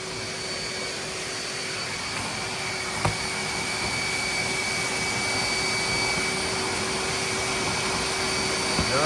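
Hoover wet/dry vacuum running steadily as it sucks water from a flooded carpet, a constant loud motor roar and airflow whoosh with a steady whine, with a brief knock partway through.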